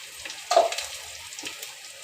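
Onions frying in hot oil for biryani give a soft, steady sizzle with one brief louder crackling burst early on and a smaller flare later, heard close with no talking.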